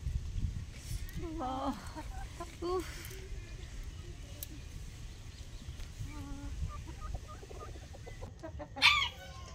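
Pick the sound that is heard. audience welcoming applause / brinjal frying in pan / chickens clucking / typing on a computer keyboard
chickens clucking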